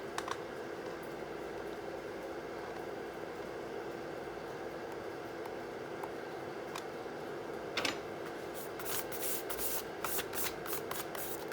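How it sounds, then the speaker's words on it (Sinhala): A nut on a wall clock being tightened with nose pliers during a home repair, heard as faint metallic ticks and scrapes over a steady background hum, with a burst of sharper clicks near the end. "මේ විදිහට නට් එක තද කරලා නෝස් ප්ලයර් එකක් පාවිච්චි කරලා නට් එක තද කර ගන්නවා."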